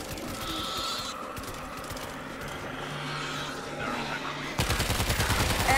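A mounted gun fires in the World War Z game's Moscow level, with steady rapid shots running under background game noise. A heavier, louder burst of fire breaks in near the end.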